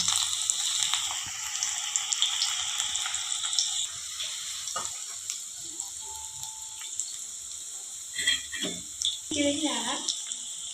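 Onion and spinach pakodi batter fries in hot oil, giving a continuous bright hiss throughout. A few soft clatters and bubbling bursts rise near the end.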